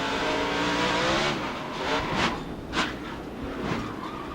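In-car camera audio from an ARCA race car hitting the wall: loud, continuous engine and road roar, then several sharp broadband bursts of impact and scraping in quick succession.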